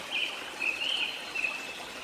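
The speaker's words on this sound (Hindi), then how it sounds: "पंछियों की चहचहाहट" Birds chirping in a forest, a few high thin twittering calls over a soft trickling water background, moderately near and quiet, without talk.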